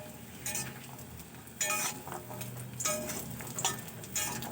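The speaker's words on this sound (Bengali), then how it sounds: "আবার আমি ওই তেলের মধ্যে বড়িগুলোকে একটু লাল লাল করে ভেজে নেব।" Sun-dried lentil bori fry in mustard oil in a pan, with a soft, continuous sizzle broken by several louder bursts of crackling and scraping stirs against the metal, close by, with no talking.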